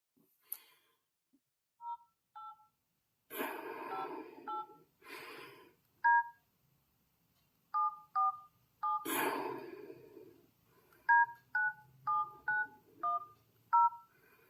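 Keypad tones from a WatchOvers Assure 4G smartwatch ring out as a phone number is dialed, short clear beeps in an irregular series with soft breaths and rustles between, no talking.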